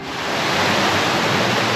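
Mountain stream near Ribeauvillé, swollen and rushing after overnight rain, a steady, dense broadband roar of water close by with no voices.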